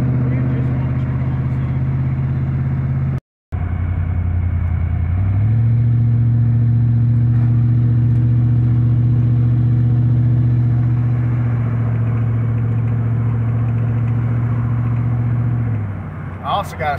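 An engine hum runs loud and steady, dropping out briefly, then rising in pitch as a vehicle accelerates and holds, fading near the end with a short clatter.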